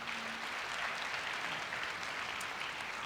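A large crowd claps at a Korea University 2016 entrance ceremony, a thick, even wash of hand claps sustained for the whole stretch with no voices standing out.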